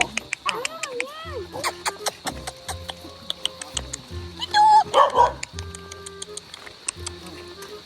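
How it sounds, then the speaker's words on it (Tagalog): Dog barks in short repeated bursts, fairly close, scattered through the clip alongside clicking and ticking noises, with people talking around it. "Napitin ng aso si BFF."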